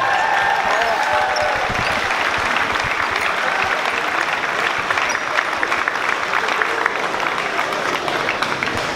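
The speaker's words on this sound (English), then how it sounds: "Let's give a big round of applause to San Ramon Valley High School, your 2024 Girls Basketball Open Division runner-ups." A big crowd in a high school basketball gym applauds the girls basketball Open Division runner-up team at a championship, dense steady clapping and cheering filling the whole stretch with a faint voice underneath.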